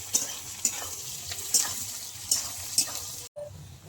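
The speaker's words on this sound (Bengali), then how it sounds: "এবার আমি পেঁয়াজের বেরেস্তাটা ভেজে নেব" Sliced onions crackle and sizzle steadily in hot oil while a spatula scrapes and stirs at intervals, close and fairly quiet.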